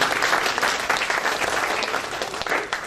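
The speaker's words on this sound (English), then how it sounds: "Give him a round of applause." A town hall meeting audience gives a round of applause for a district councilman, a full, steady patter of many hands clapping at fairly close range for a few seconds.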